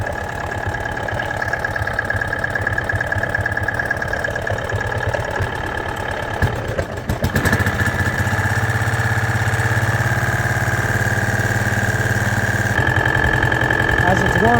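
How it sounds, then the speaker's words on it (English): An engine idles steadily after a Lucas oil additive treatment, with a close, even mechanical rattle over a low hum; a brief clatter midway is followed by the same idle, and a faint knock is not clearly separable. "That knock actually went away."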